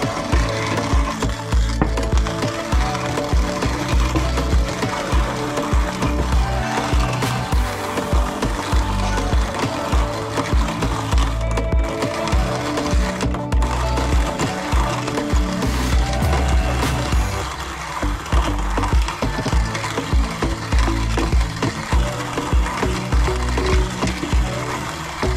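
Coffee beans are ground by hand in a coffee grinder, producing a loud, continuous crunching and scraping rasp with a rough repeating texture that runs steadily for the whole stretch, close up with no talk.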